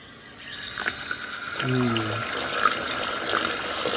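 Water runs from a tap into a sink for washing clothes, a steady broadband flow that holds throughout at moderate level, with brief talk and handling sounds partway through.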